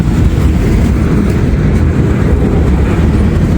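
A freight train with old Southern and Conrail gondola cars rolls past close by, with a loud, continuous low rumble and rattle of wheels on rail.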